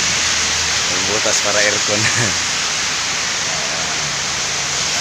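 Heavy rain pours down over the rooftop of a building, a steady broadband hiss that fills the whole stretch while a person talks over it.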